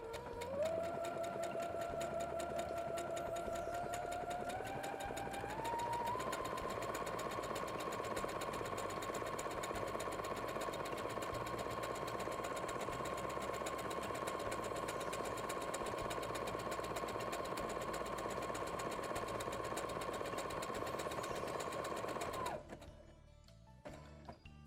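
A digital sewing machine stitches fabric for a house-shaped cushion, a steady rapid whir running continuously and close for over twenty seconds, pitch rising slightly early on, then stopping abruptly near the end.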